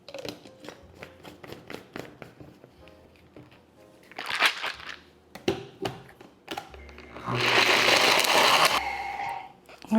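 A blender whirs through dates and water being blended into a pistachio cream, a sustained loud grinding burst following earlier clicks, taps and scraping sounds from the jar.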